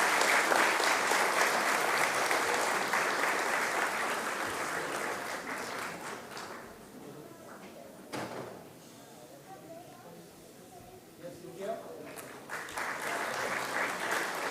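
An audience at an Independence Day ceremony applauds an honoree, a senior finance officer marked for thirty years of service; the clapping is loud at first, thins out midway, then swells again as talk and shuffling noises come through.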